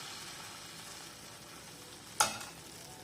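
Rava dosa batter poured into a hot frying pan sizzles in a steady hiss, with one sharp, bright splash of crackle as more batter hits the oil, then settles back to an even fry.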